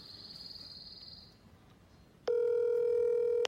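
A phone rings out on a call to a marine dealer about a Sea-Doo jet ski: a high electronic tone, a pause, then a loud steady ringback tone close to the handset.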